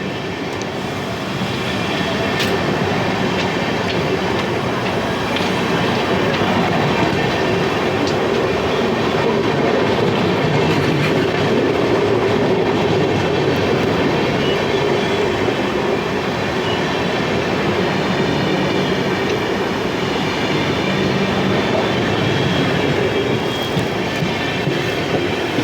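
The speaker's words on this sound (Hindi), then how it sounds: "फिलहाल राजधानी दोबारा ओवरटेक कर रही है अपने को।" The Rajdhani Express overtakes a moving passenger train, with a loud, continuous rumble of rolling stock and a rhythmic clickety-clack of wheels over the rails for the whole stretch.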